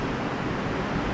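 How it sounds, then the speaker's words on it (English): Tropical storm wind roaring steadily outside a car repair shop, a dense broadband rush with no distinct gusts or breaks, moderately loud and unbroken throughout. "There's a tropical storm going on outside the shop right now."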